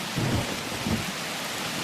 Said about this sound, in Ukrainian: Мені не подобається, коли гримить